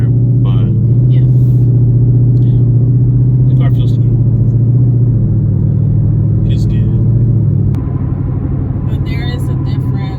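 A 2019 Ford Mustang GT with a Bama tune hums and rumbles steadily from inside the cabin while driving, the engine tone shifting slightly, with people talking over it throughout.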